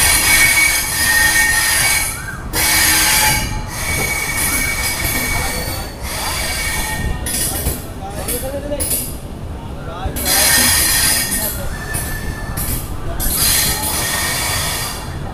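Dhauli Express pulling away from platform 1 at Santragachi, steel wheels squealing loudly and continuously over rumbling, clattering cars, with brief quieter gaps and some background voices.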